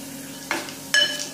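Garlic sizzling in hot oil in a pan for toor dal, with two distinct scraping stirs of a spoon through the frying pieces, close and steady with no talk.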